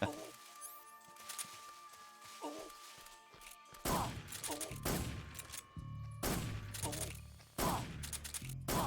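Gunfire in Metal Gear Solid 3 on the PS3 HD Collection, a handful of loud, separate shots and crashing impacts over a quieter game backdrop, coming at irregular intervals in the second half.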